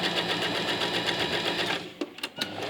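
A sewing machine stitches fabric ribs at a loose stitch setting of about 3, running in a steady, close whirring rhythm for nearly two seconds before stopping, followed by a few brief clicks and handling knocks.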